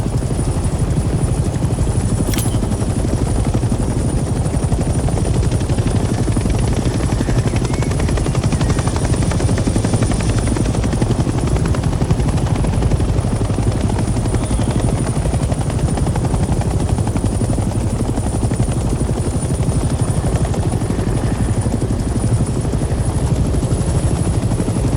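Helicopter in the video game Hell Let Loose: Vietnam, a loud, steady rotor and engine drone heard from inside the airborne aircraft, continuous for the whole stretch with one brief high click near the start.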